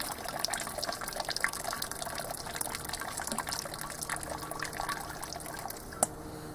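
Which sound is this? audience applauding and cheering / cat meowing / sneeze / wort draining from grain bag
wort draining from grain bag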